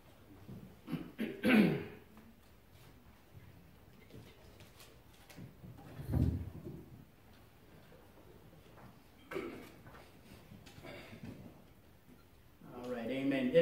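A preacher coughs and clears his throat in a church while sick with a flu-like illness. Several separate rough bursts are spread across a quiet stretch, fairly close to the microphone, with a louder fit at the end.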